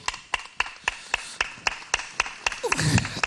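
A small audience claps at a steady, regular rhythm, about three claps a second. The claps sound sharp and close, and there is a brief murmur of voices near the end.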